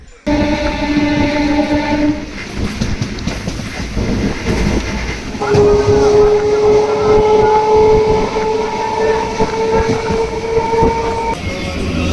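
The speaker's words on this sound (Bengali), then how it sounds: "এখন ঢুকছে নটা সাতের শিয়ালদা কাটোয়া লোকাল নৈহাটির দু নম্বর প্ল্যাটফর্মে" A Sealdah–Katwa local train pulling into platform two at Naihati station, loud rumbling wagons and rail noise with a long sustained horn tone sounding through the middle, heard up close.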